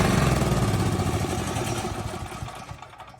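A Predator 212 generator engine that has sat unused for a couple of years starts and runs loud and close, then its roar gradually fades as it dies down.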